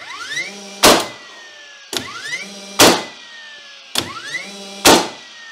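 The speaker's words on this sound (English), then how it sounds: "So we'll fire a nail now. As soon as you fire it, the flywheel sort of runs down." A DeWalt cordless framing nailer fires three nails in turn, each a sharp loud crack followed by the whine of its flywheel spinning down, with short mechanical whirs between shots and no voices.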